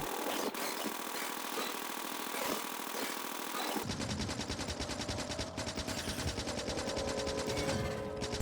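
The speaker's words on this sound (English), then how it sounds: "using my machine gun here" A machine gun firing at worms in the video game Factorio, rapid steady bursts of gunfire that grow denser and louder partway through and continue to the end, with no talk.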